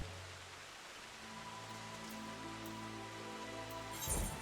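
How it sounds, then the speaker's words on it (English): Rain falling in the Final Fantasy XIV video game, a soft continuous hiss of drops on surfaces under a low sustained musical drone, growing louder near the end. "Good timing, it's starting to rain."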